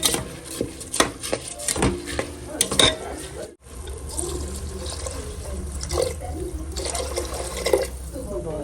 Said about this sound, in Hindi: चावल डूबने तक पानी डालेंगे